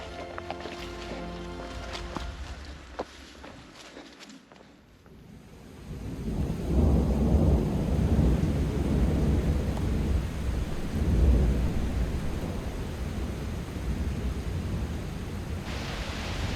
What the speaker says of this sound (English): We woke up this morning with the help of Mother Nature, one of the wildest thunderstorms I've witnessed personally.